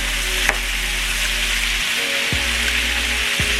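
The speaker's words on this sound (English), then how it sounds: "Now I'm adding my green peppers in now because my green peppers are going to cook faster than my onions" Green peppers tumble into a pan of frying potatoes and onions, setting off a loud, steady close sizzle with a few brief stirring knocks and a low hum beneath.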